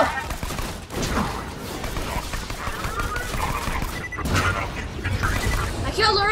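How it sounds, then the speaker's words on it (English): Pistol gunfire in the video game Borderlands 2, a rapid spray of shots crackling under continuous talk and game noise, with a burst of louder hits near the end. "I killed a robot with my weak gun."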